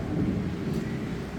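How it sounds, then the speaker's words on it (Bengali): Rain and thunder heard from indoors: a dense, low rumbling roar fills the whole short stretch at steady loudness, close and heavy, with no talking. "আর ভিডিওটি বড় করলাম না বৃষ্টির কারণে অনেক শব্দ হচ্ছে"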